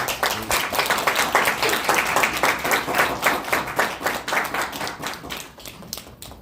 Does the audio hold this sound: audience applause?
yes